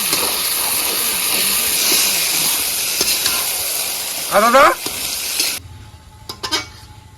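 Marinated chicken hits a hot pan with a loud, steady sizzle and hiss, a brief voice-like chirp partway through, and then the frying noise cuts off abruptly, leaving quiet clinks.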